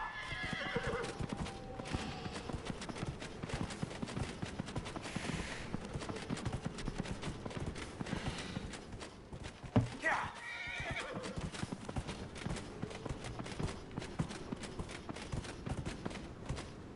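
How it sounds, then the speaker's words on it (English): Horse in Dragon Age: Inquisition whinnying near the start, then steady clip-clop of hooves running through the rest, with a voice talking over it. "Horsey!"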